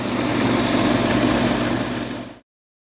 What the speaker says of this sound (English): I'm going to take my time and take this with sandpaper